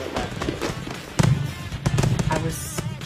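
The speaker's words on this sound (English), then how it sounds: "I was shocked to see how much fireworks they test all the time." Prototype fireworks tested outdoors near the Liaoyang River go off in a few sharp thumping bursts and crackles over a steady background.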